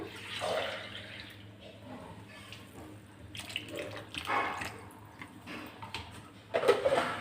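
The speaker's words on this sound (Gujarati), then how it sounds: "ત્યારબાદ તેમાં આપણે હજી બે ગ્લાસ જેટલું પાણીનો ઉપયોગ કરશું" Water pours into a tomato mixture for wafers in a home kitchen, a steady running splash that rises in bursts, with a louder gush near the end and no talking.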